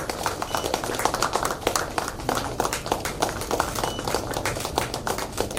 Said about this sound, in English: Now, I would like a big round of applause, please.